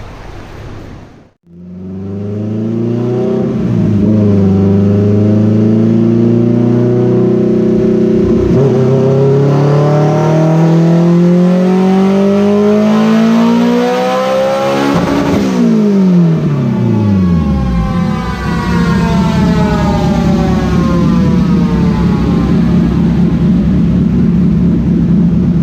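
A built, turbocharged Honda Civic EG with a GSR engine roars on a dyno pull, rising steadily in pitch under load for about fifteen seconds, then winding down as the revs drop, loud and close throughout.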